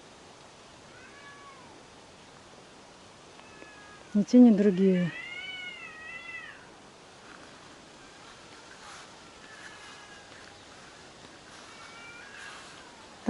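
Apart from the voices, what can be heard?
cats meowing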